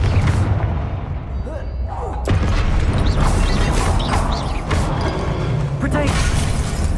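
Confringo fire spell blasts in a video game: heavy booming impacts and crashing debris over a dense, loud game soundscape of clattering effects, with voices faintly present underneath.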